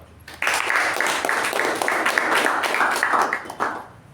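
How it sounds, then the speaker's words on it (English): A small group at a Toastmasters club meeting claps for a debate speaker, a short, moderately loud round of applause with a somewhat thin, boxy quality that starts abruptly and fades after a few seconds. "a round of applause to her"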